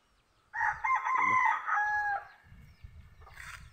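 A farmyard mother hen with chicks calls out in a loud, close burst of clucking and crow-like squawks, followed by quieter rustling and a brief second cluck.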